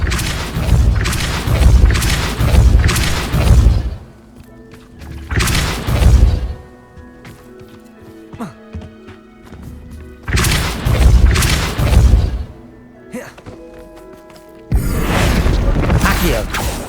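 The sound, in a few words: Depulso spell blast in Hogwarts Legacy video game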